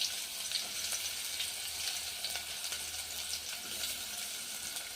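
Finely chopped onion fries in a pan for a breakfast of poori and roasted-gram chutney. A soft, steady sizzle hisses quietly throughout, with no talking over it.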